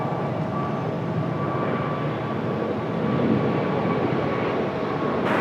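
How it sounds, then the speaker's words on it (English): A Delta A220 airliner takes off from runway 23 left at Raleigh-Durham International Airport, heard as a steady, broad jet roar that holds at a moderate distance and swells slightly toward the end. "There goes our Delta A220."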